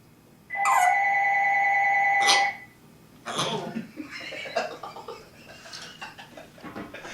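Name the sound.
parrot imitating a ringing telephone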